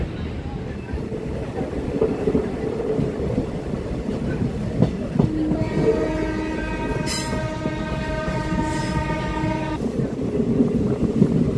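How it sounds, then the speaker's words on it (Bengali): A passenger train on the Belonia to Agartala line in Tripura rumbles steadily along the track, with a long horn blast sounding over the running noise midway and wind buffeting throughout. "যতই সময় গড়াচ্ছে ট্রেন ততই আগরতলা শহরের পাশাপাশি এসে যাচ্ছে।"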